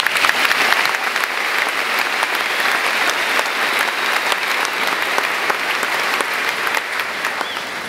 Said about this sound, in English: Let's give the students one last round of applause.